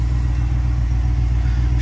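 A 2020 Ram Power Wagon on 35-inch tires idles with an aftermarket exhaust, giving a steady, close, low rumble that holds evenly throughout with no talking.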